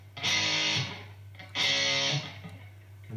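Four distorted electric guitar chords of an early-1990s heavy metal riff, played as two loud sustained strums with fading gaps between them, bright and fuzzy over a steady low hum.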